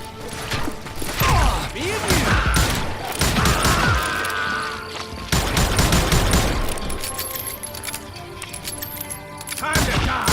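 Gunfire in the Western video game Call of Juarez Gunslinger, loud bursts of shots with crashes and ricochet-like squeals across the whole stretch, game voices mixed in.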